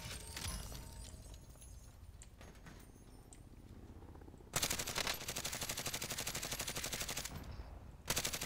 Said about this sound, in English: I'm getting shot at, and I can't crouch.